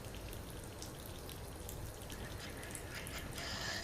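Steady, fairly loud splashing of running water from a shower, continuous throughout with brighter hiss near the end.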